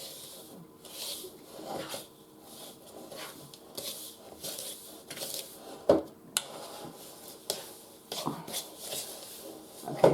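Cookie dough from scratch being worked in a bowl, heard as repeated close scraping and rubbing strokes with soft squishing and a few sharper knocks against the bowl, no speech.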